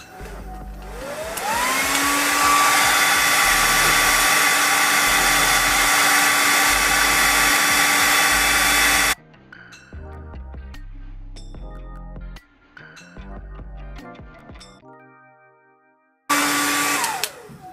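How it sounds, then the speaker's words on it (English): A hair dryer roars steadily at close range for several seconds, then cuts off into quieter clattering and handling noises before the dryer whirs back on at the end. "now that we're done with the hair dryer"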